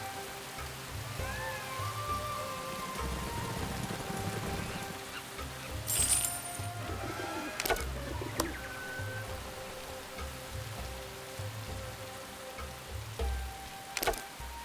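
Rain falling in The Settlers: Eastern Realm, a steady soft patter with scattered sharper drip ticks running throughout, alongside low droning game music.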